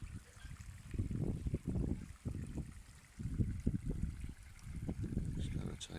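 Water runs through a newly dug garden stream in a steady, low gurgling flow with rising and falling surges, close by, under quiet background sound.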